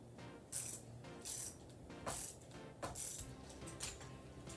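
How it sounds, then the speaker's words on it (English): A ratcheting screwdriver tightens a screw on articulated cosplay wings, giving a steady mechanical clicking with five or six louder bursts at roughly regular intervals, close up with no speech. "then start ratcheting this one"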